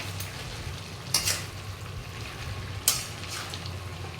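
Pumpkin greens, ridge gourd and shrimp fry in a pan, a steady close sizzle broken by two sharp spatula scrapes as the mixture is stirred, no voices.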